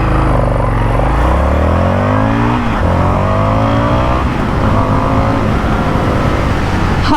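An Indian FTR1200 motorcycle accelerates hard from standstill toward 100, its engine revving loud and close, climbing in pitch through successive gear shifts with a steady roaring drone.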